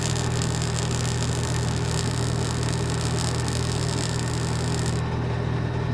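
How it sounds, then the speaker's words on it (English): Electric welder working on farm equipment gives a continuous, close buzzing hum with static crackle. The sound is steady throughout and changes slightly near the end. "start this welder up again. Alright, let's weld these"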